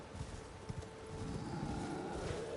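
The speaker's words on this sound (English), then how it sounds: "Call your horse." Horse hooves in Elden Ring clopping at a steady walking rhythm, a repeated close thudding beat over a low ambient game backdrop, with no talking.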